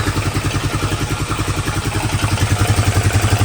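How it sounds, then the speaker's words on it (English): A Honda Rancher ATV engine idles after a rebuild with the drive shafts and coolant hoses still disconnected, a loud, steady, close mechanical chug with rhythmic clatter that swells slightly toward the end, with no voices. "Motor is much quieter."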